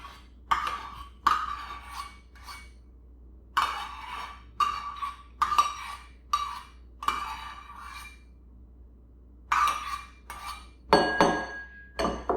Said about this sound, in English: I'm going to use my utensil and just put it into our bowl